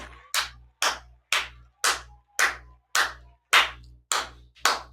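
Studio audience clapping in slow, evenly spaced single claps, about nine sharp strikes each ringing out briefly before the next, crisp and close with nothing else heard.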